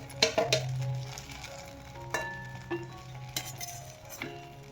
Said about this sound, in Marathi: इथं बघा आता हे वांगे आपण एका प्लेटमध्ये काढून ठेवूया.